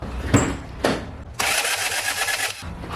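An engine cranks on a weak battery during a cylinder compression test. Two brief close cranking bursts come first, then a steady starter churn of just over a second that stops without the engine catching.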